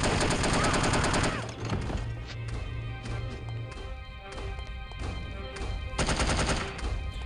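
Rapid gunfire from No One Lives Forever: dense bursts of automatic shots at the start and again near the end, with sparser single cracks and clatter in between.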